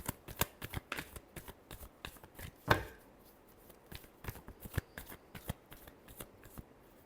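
Tarot cards shuffled by hand close up, with quick riffling flicks and soft slaps in an irregular rhythm and one louder snap partway through, fairly quiet, with no talking.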